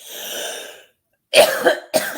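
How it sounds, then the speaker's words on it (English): A few harsh coughs close up from smoking a joint, after a soft breathy exhale and a brief pause, with a second short cough burst at the end. "Gives me a good cough."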